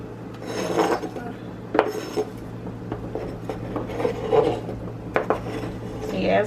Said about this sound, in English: Now let's get our vegetables in.